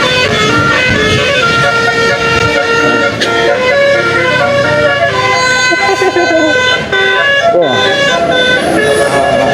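A loud, continuous musical telolet horn on a tour bus plays a melodic tune up close, over heavy traffic noise on a road in Java.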